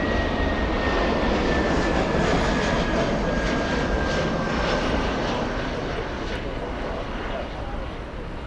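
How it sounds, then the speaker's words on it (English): A Lufthansa jet airliner at Frankfurt Airport gives off a loud, steady roar with a faint high whine, holding constant throughout before easing slightly at the end. "We have Lufthansa 400 flying to JFK."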